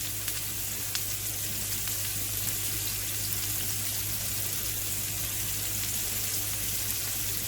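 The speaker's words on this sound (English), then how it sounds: "I know you can probably hear the dishwasher in the background" A household dishwasher runs steadily in the background of a kitchen during dinner preparation, giving a continuous watery hiss and low hum with faint clinks, constant and unbroken throughout.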